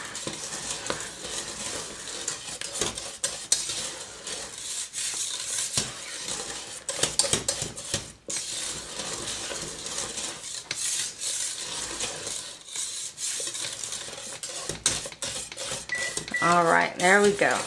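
Wire whisk scraping and clinking against a metal pot as cream puff dough is stirred on the stove, a steady rasping scrape running throughout with occasional sharper clinks near the end.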